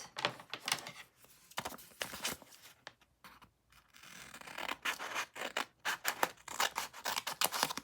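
Scissors snip through a paper envelope in a craft setup, a series of close, crisp cuts and rustles coming in bursts with short quiet pauses between them.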